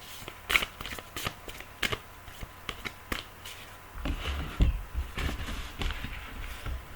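Tarot deck shuffled by hand during a card reading, a quick run of crisp riffling flicks and taps, close and clear, followed by a softer rustling stretch.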